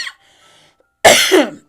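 A single dry cough bursts out loud and close, a short harsh burst with a rasping tail, preceded by faint breathing and near silence in a radio studio setting.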